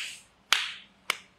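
A hand pats a stroke patient's body twice, each a sharp, close slap about half a second apart, with quiet between.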